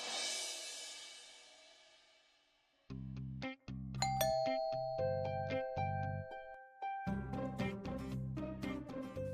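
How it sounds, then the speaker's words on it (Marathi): A doorbell chimes inside a home, its bright ringing tones stacking over a layered musical background that swells and continues after the rings. "बेल वाजती अगं."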